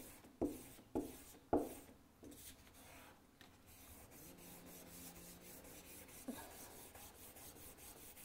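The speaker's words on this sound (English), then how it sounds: "So now I am rubbing quite hard to really get every last trace of" Paper is rubbed hard against an inked plate to take a mono-print, with a few sharp scraping strokes at first and then a softer, continuous rasping rub, quiet and close.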